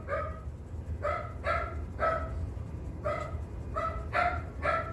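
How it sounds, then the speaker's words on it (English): Dog barks in short repeated bursts, about eight in five seconds, moderately near and somewhat muffled, in a home kitchen while dinner cooks, with low background hum. "My dog barking in the background"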